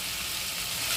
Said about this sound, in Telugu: మనం కలుపుకుంటూ వేయించుకోవాలి.